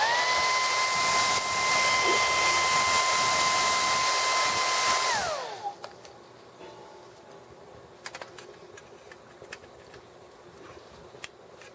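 A heat blower runs steadily and loudly, warming a short Marx model train vista dome for removal, then switches off and winds down, leaving quiet room noise with a few faint light clicks.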